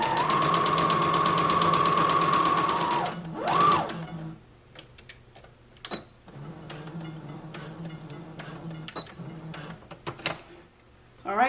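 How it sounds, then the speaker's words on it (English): Home sewing machine stitching a skirt pocket, a loud, fast, steady mechanical whir for about three seconds, a short burst after, then quiet clicks and fabric handling. "lower your needle, begin sewing, back stitch, and keep sewing until you get to the other end of the pocket"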